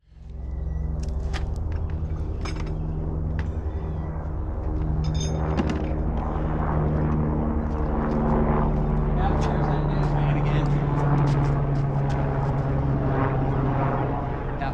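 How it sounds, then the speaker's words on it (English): A news helicopter's steady rotor drone hovers overhead for the whole stretch, with background rumble and faint scattered noises mixed in. "That's a news helicopter. I have a med helicopter that flies overhead too all the time."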